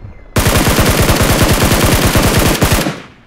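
A sustained automatic burst from a gun in PUBG Mobile hammers out at a rapid, even rate for about two and a half seconds. The shots are loud, close and punchy, then cut off sharply with a short tail.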